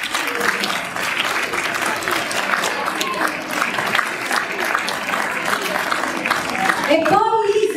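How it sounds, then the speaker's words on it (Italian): An audience applauds at an outdoor community peace event in Crispiano, with steady dense clapping throughout and a brief change of sound near the end. "Accompagniamo questo bellissimo momento con un applauso"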